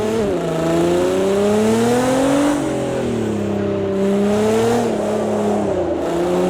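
Nissan GT-R Nismo drifting sideways in the Project Cars 2 racing game, its engine note rising and falling steadily over several seconds as revs swing up and down, loud and continuous with no talk.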